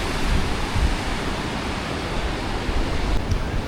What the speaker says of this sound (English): This is the Bow River, by the way.